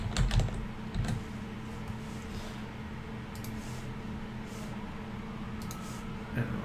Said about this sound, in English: so we'll type this first